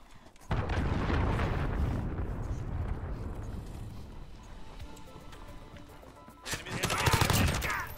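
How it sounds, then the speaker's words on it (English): Cruise missile strike in Call of Duty Modern Warfare, a loud, rumbling explosion that rolls on for several seconds and trails off, then a second burst of blasts near the end. "Enemy cruise missile incoming."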